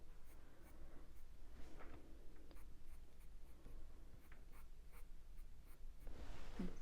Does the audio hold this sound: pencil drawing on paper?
yes